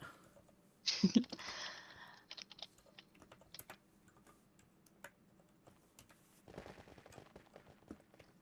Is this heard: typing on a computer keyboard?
yes